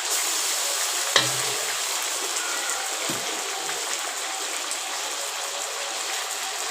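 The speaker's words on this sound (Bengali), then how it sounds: "মশলাটা এখন দিয়ে দিচ্ছি।" Spice paste going into fried duck meat in a hot pan, a steady loud sizzle and crackle of frying throughout, with a couple of soft knocks early on and no talking.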